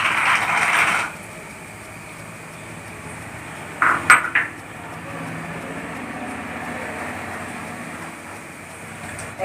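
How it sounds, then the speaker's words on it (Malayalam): Raw peanuts tipped into a pan for roasting while making spicy mixture: a short, sharp clatter midway through, set against a low steady hiss with no talking. "ഇനി നമുക്ക് നമ്മുടെ കപ്പലണ്ടി ഇതിലിട്ട് വറുത്ത് വരാം"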